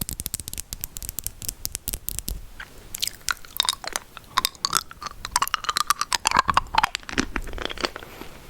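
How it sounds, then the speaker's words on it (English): Close, intimate chewing of Filipino toffee candy, with sticky, crunchy bites and wet mouth sounds in an irregular rhythm, some crinkling of a wrapper mixed in. "I'm gonna have to finish eating this before I continue."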